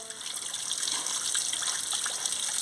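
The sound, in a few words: washing potatoes, eggplant and gima greens in water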